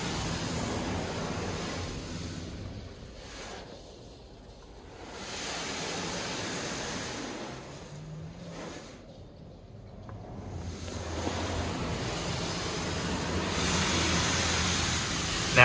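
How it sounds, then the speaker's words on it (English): A Laserwash4000 gantry car wash sprays spot-free rinse water with a steady, broadband hiss that swells and eases as the spray passes, close by and without talk. "I think we're getting another. I think it's a spot free rinse."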